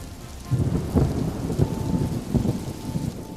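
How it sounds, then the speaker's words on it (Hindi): Heavy rain pours steadily while deep thunder rumbles and cracks repeatedly, fairly close and loud, with no talking. "धीरे धीरे करके बारिश बहुत तेज हो जाती है"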